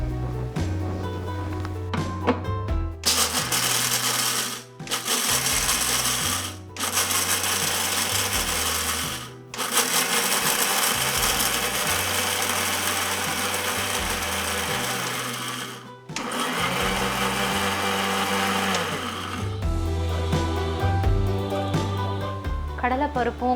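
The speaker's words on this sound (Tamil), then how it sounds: "அதுக்குள்ள நாம வறுத்து வச்சிருக்க இந்த பருப்பையும் காஞ்ச மிளகாவையும் பொடி பண்ணிக்கலாம்" A kitchen mixer grinder pulverizes roasted chana dal and dried chillies in several loud, whirring bursts separated by brief pauses, ending with a rougher final run.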